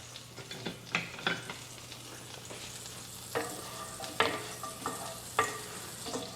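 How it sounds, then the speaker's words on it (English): Butter melting in a pan with olive oil gives a soft, steady sizzle, with several louder clinks and scrapes from stirring scattered across it and no talk. "I'm going to add some butter. So we'll let that melt."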